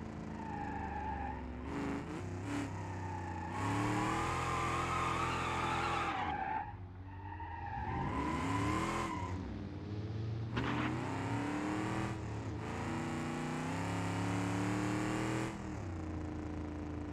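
Race cars driven by AI in BeamNG, engines revving hard and tires skidding and squealing through long loud passes, near and sustained with brief lulls between bursts.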